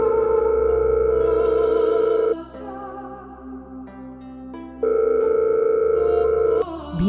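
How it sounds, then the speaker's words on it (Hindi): A cartoon mobile phone rings at night in a sustained electronic tone, loud and close, pausing briefly in the middle before sounding again. "एक रात भीमा का फोन बजता है।"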